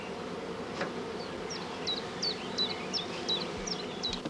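Honey bees hum in a steady, dense buzz around a hive and a caged queen, with individual insects flitting close by in short rising whines over the continuous drone.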